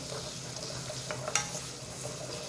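Cubed radish stir-fried in a pot for a soup gives a steady, close sizzle with a few brief utensil scrapes and clicks; no one speaks.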